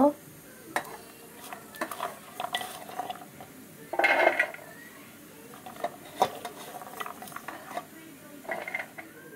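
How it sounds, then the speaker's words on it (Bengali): Peeled garlic cloves are crushed by hand for a dried-fish chutney, making a series of irregular close knocks and scrapes with one louder grinding burst midway. "এখন রসুনগুলোকে থেতো করে নেব"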